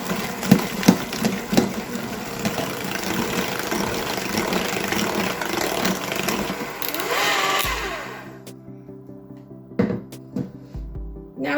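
An electric mixer whirs through vegan cookie dough ingredients with a steady mechanical drone for about eight seconds, then cuts off, leaving a faint hum and a few soft knocks.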